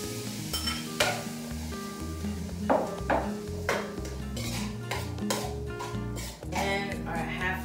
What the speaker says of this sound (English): Now we're gonna add our peas.